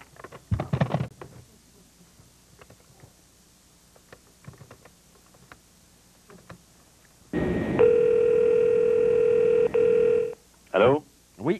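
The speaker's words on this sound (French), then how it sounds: "appelons donc ce Guillaume" A telephone dials out and rings on a call, heard as a steady ringback tone for about three seconds followed by short bursts, after a few quiet clicks and handling noises.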